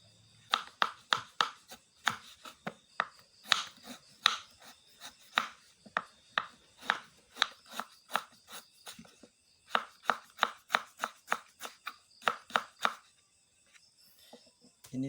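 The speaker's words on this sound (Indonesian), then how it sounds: "kita iris pakai pisau ya" A knife slices cassava very thinly by hand for chips, producing a string of crisp, close cutting strokes in a quick, fairly regular rhythm that pauses briefly near the end, with no speech.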